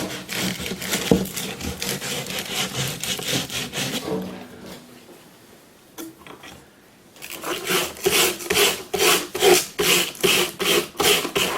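Sandpaper from floor-sander rentals rubs over a plaster sculpture in rapid, close back-and-forth strokes, pausing briefly in the middle before the rhythmic scraping resumes louder.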